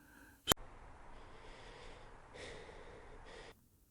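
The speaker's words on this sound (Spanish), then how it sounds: "solo el sonido de alguien respirando. Una respiración pesada, húmeda y forzada." Heavy, wet, laboured breathing crackles over a wall intercom, opening with a sharp click, then a few seconds of rasping hiss with one deeper drawn breath before cutting off into quiet.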